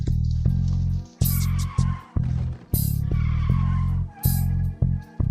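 A car pulls away with loud, repeated tire skids and squeals, several sharp screeching bursts over a steady engine roar, close and with no talking.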